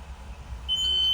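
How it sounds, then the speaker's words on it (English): A school bus rear emergency door alarm sounds a steady high-pitched electronic tone, starting partway through and holding continuously to the end, loud against a low rumbling background. "I open the door, it opens, I hear the alarm."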